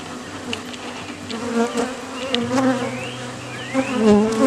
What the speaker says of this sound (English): they're tearing apart their hive